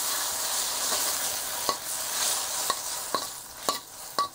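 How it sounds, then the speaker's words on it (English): Eggplant stirs in a hot pan with freshly ground ginger and Sichuan chilies, a steady close sizzle broken by several sharp scraping clicks of the utensil against the pan. "freshly ground ginger, a couple of Sichuan chilies, and give it a good stir"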